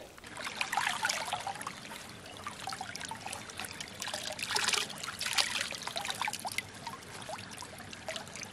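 Creek water trickles and splashes near and soft as gut lining from a hunted animal is rinsed, with irregular small sloshes over a steady flowing murmur.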